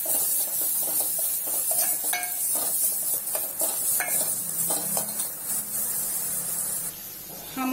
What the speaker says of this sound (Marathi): हा जो बारीक केलेला मसाला आहे तो तेलामध्ये आपण टाकून घेऊया।